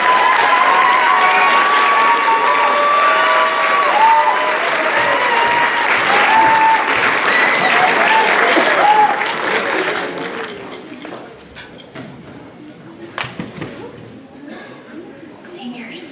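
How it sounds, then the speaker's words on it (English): A concert audience applauds a high school band, steady loud clapping for about nine seconds before fading into scattered claps and murmuring crowd noise. "giving all of our high school band members a big round of applause"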